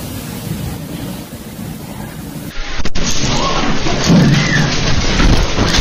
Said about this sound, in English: the severe storm swept through the Sicilian capital, bringing torrential rain, hurricane-force winds and flash floods that paralyzed the city